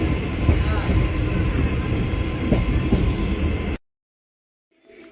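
A train rolls into Rae Bareli railway station with a loud, continuous rumble and squealing wheels, then cuts to near silence, leaving a faint sound at the end.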